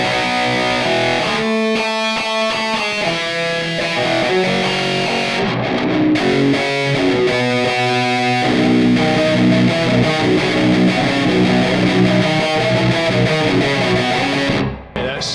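A metal distortion pedal from the Amplitube Metal plugin, heavily saturated and harsh, carries a loud, dense guitar riff with chugging palm-muted chords and sustained ringing notes that stays steady throughout.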